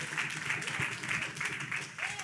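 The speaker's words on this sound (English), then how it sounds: "Clap your hands for the truth" An audience at a community outreach session claps hands in steady, fairly distant bursts of applause, with speech mixed in.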